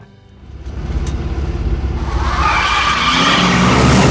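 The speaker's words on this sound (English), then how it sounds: "An edge-of-your-seat car chase is given to us in No Man's Land" A car skids and its tires squeal during a high-speed movie chase, the screech building loud and close over a revving engine across the whole stretch.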